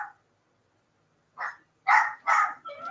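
A dog barks several times in a quick burst indoors, a short early yip followed by three louder, close barks in steady succession.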